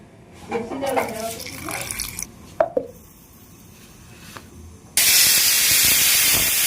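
A pressure cooker boiling giant taro (mankochu) releases its whistle as a sudden loud, sustained hiss of escaping steam that fills the last couple of seconds, after a stretch of talking and faint kitchen clatter.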